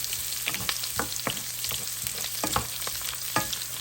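Garlic and onion sizzle and crackle in a hot pan while being stirred, with scraping taps from a utensil at irregular moments over a constant close frying hiss, no voices.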